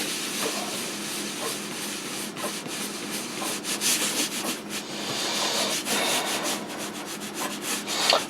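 Steady scratchy rubbing of a marker or pencil coloring in a creature drawing, close and continuous, with short strokes repeating in an uneven rhythm.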